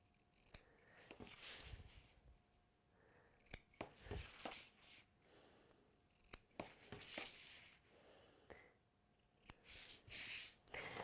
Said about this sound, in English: So now, I'm going to just trim those corners.